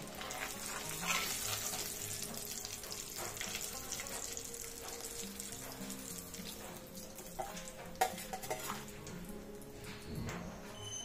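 Dal puri frying in hot oil in a home kitchen, a soft, steady sizzle with occasional stirring clinks and a brief sharp knock, fairly quiet and close, with water running faintly in the background.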